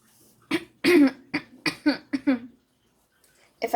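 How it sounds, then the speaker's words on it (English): A person coughs in a rapid series of short, harsh bursts, about seven close together, followed by a brief pause and one more cough at the end. "If I can stop coughing enough to make this update,"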